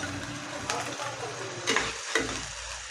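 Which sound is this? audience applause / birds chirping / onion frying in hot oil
onion frying in hot oil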